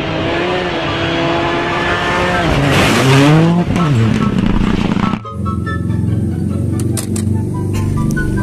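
A toy race car's engine sound revs with rising pitch and tire squeal, then cuts abruptly to a steadier, quieter motor hum with faint clicks.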